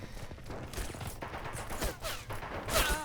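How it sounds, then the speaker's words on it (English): Artillery and gunfire in the World War II real-time strategy game Men of War: Assault Squad 2, a faint run of scattered shots and bangs over battlefield noise with no talk. "I got my artillery shooting at his Dodge WC"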